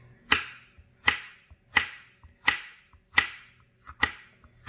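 A knife chops mini sweet peppers into rings on a cutting board, six crisp, evenly spaced strokes with sharp clacks against the board, close and alone.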